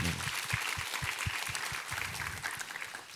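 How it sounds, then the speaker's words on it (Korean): Church congregation applauding a chamber ensemble after its performance at a Sunday worship service: steady, even clapping from a large crowd in a hall, moderately distant and sustained throughout. "우리 챔버팀에게 감사와 격려의 박수 드리도록 하겠습니다"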